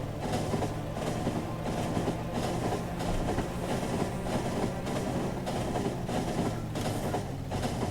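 A train running in the video game Factorio rolls steadily along its track, a continuous mechanical rumble with faint rhythmic clatter, loud and unbroken with no talking.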